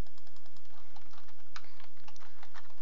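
Rapid clicking of computer keyboard keys, including a non-working F3 key, pressed in quick, uneven succession, close up, with no talking.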